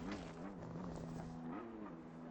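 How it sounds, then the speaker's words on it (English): A race car in a racing video game sits stuck in the pit, its engine droning steadily at a low, wavering pitch that rises and dips as it strains without moving, continuous and fairly close. "It sounds like his car is trying to move, but isn't, unless he's got a wheel glitch or something."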